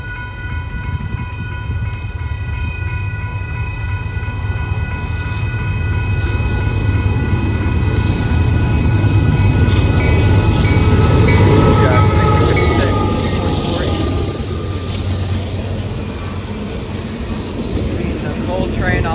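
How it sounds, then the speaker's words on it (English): A westbound Union Pacific coal train rolls past at close range on a single track, a loud steady rumble and rattle of wagons swelling in the middle, with a crossing bell ringing throughout. "The coal train all by itself"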